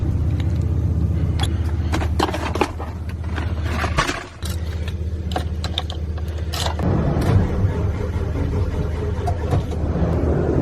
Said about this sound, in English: It takes a lot to turn over a diesel.